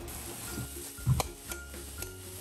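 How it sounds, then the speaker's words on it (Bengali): Potatoes frying in a pan, a soft steady sizzle close by with a brief clatter of a utensil stirring against the pan midway. "আর এখন রাতের জন্য আমি আলু ভাজি করছি"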